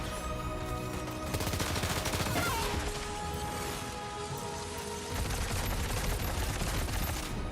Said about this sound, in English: Just gonna go with the assault rifle